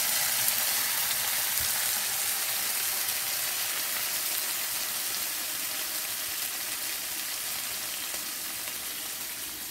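Vegetables simmer in tomato sauce in a pan over low heat for a vegetarian lomo saltado, giving a steady, continuous sizzle and crackle that stays even and close throughout with no voices.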